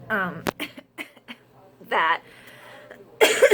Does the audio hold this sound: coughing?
yes